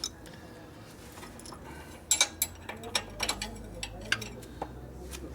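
Ratchet clicks in several short bursts as a big nut is unscrewed on a 1972 Harley-Davidson 1000cc Ironhead Sportster street tracker under rebuild, close and fairly quiet in a workshop with a low background hum.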